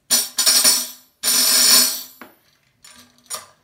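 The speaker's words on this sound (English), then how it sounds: "We also have the orchestral tambourine, which sounds like this." An orchestral tambourine played solo in bursts: two long shaken rolls of bright jingle rattle, a short tap, then a few lighter taps and a final brief shake, close and clear with no other sounds.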